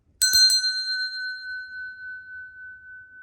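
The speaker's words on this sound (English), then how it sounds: "I'm going to clear the energy with the bell." A single bright bell struck once, a quick double ding, then a clear metallic tone ringing on and slowly fading in a quiet room.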